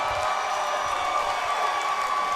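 Arena crowd at a USFFC 24 fight night cheering and applauding for fighter Alexa Connors, a steady roar of mixed voices and clapping.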